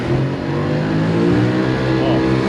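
A boat engine revving, loud and close, a steady droning roar with a low tonal hum that rises in pitch slightly as it is throttled up, with no break across the span.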